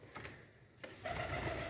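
Pigeons cooing softly near their chicks in a loft, a low murmuring coo rising after a brief click, close and moderately quiet with faint background noise.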